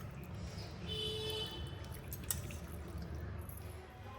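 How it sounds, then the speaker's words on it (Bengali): Large mutton pieces are rinsed in water, giving soft close drips, splashes and squishy handling sounds at low volume with no talking. "চলো মাটনটাকে ধুয়ে নিই, বেশি ধোবো না"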